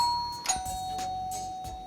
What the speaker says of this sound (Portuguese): É uma campainha de pedido de socorro.